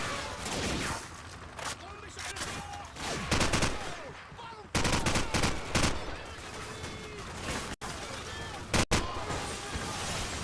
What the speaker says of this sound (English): I thought it was a muzzle flash as I was shooting the monitor again